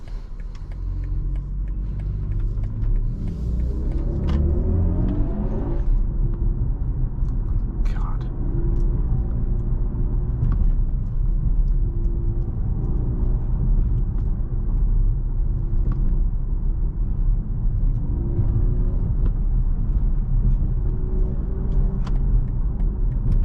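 A 2022 BMW i4 M50 electric car accelerating hard, a deep cabin rumble with a rising whine early on, then steady road roar throughout under faint voices.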